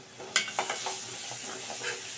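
Ginger, garlic and green chili paste being stirred into onions frying in a pan, with a few scraping spoon strokes over a soft steady sizzle, close and fairly quiet.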